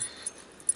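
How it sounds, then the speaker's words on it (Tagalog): A dog on a terrace gives a faint, very brief whimper, a couple of soft high yips in a quiet space. "Pati ang mga aso."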